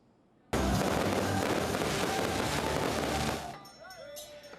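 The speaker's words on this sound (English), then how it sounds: "Keelung is marking its annual Midsummer Ghost Festival with lantern displays and fireworks." Fireworks at the Keelung Midsummer Ghost Festival give a dense, continuous crackling roar that starts suddenly, stays loud for about three seconds, then thins to scattered pops and whistles.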